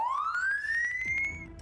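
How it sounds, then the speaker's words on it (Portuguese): A police-style siren played on a Brazilian radio show, one rising electronic wail climbing and holding high, loud and clear with a few clicks underneath and no talk over it. "Essa é a sirene que mais toca em Três Lagoas e toda a nossa região."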